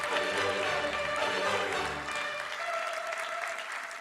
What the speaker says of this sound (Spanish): ¿Y por qué no le da usted un aplauso al Señor que reina?